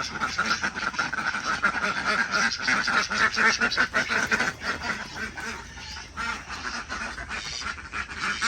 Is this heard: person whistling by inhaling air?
no